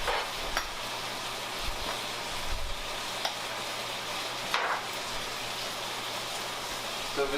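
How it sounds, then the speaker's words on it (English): Steak sizzles quietly in a hot pan while being basted with butter, a soft steady crackle with occasional spoon clinks and stirring scrapes, no talk over it. "Give our steak another flip. And I'm going to start basting it."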